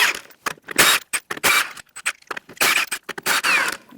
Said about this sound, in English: Using a 21mm socket, we're going to remove our lug nuts.